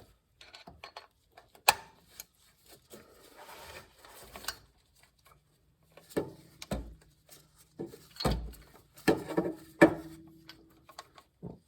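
Ratchet wrench working a spark plug in the cramped engine bay of a 986 Porsche Boxster, giving scattered clicking bursts and knocks of tool against metal, close and fairly quiet, with pauses between strokes.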